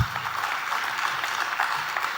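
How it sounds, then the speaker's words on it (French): At a conference opening day, a crowd applauds the lady minister with a steady, even patter of many hands clapping together, moderately loud and sustained throughout. "Permettez-moi de solliciter encore une fois des applaudissements pour Madame la ministre."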